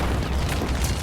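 Secondary explosions in the Combat Mission: Cold War wargame make a deep, rumbling boom that rolls on continuously, heavy in the low end and fairly loud, with no voices over it.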